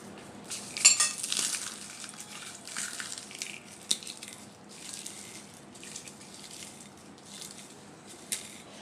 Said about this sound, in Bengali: শুকনো মরিচগুলোকে একটু কষে নিচ্ছি